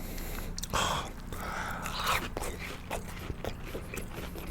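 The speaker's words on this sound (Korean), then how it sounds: "이번엔 치즈볼을 찍어 먹어보겠습니다" A BHC cheese ball bitten and chewed up close, with a few soft crunchy bites followed by moist chewing, alone and without talk.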